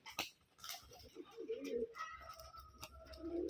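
Rajshahi giribaz pigeons, wings clipped, cooing in a loft, with a soft throaty coo rising mid-clip among scattered chirps, shuffles and faint background voices.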